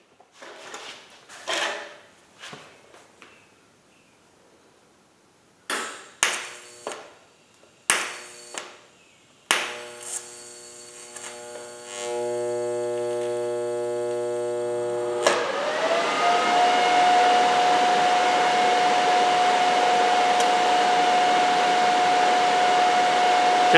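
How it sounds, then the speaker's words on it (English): A few sharp metallic knocks and clanks, then a steady loud electrical hum with a high whine, as a tab for an asymmetrical chopper sissy bar, an Indian Larry tribute build, is tack welded in a workshop. "And I tack weld it"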